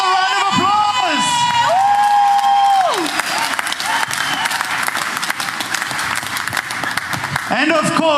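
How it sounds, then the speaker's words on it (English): Rally crowd applauding and cheering for a mayoral candidate, a dense, loud, sustained wash of clapping with whoops and shouts, as an amplified voice speaks over it at the start and end. "Let's give him another round of applause."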